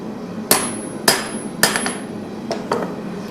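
Hammer striking an Atlas anvil at a homemade forge, five sharp ringing blows, the first three evenly spaced and louder, the last two softer and quicker, close with room background.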